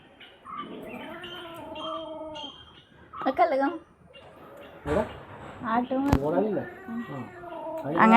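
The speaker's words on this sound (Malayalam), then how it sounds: "പൂച്ചയുടെ സ്വന്തം കുഞ്ഞ് നല്ല ഉറക്കാ." A kitten meows repeatedly in short, high, close calls, some drawn out into caterwaul-like cries, among quiet indoor background with occasional voices.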